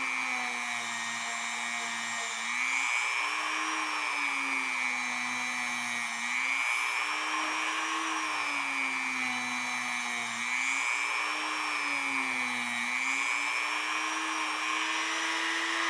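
A Dremel rotary tool whines continuously on a part from a New England cathedral clock, its high pitch rising and falling in slow waves as the load changes, close and steady throughout.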